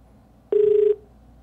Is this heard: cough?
no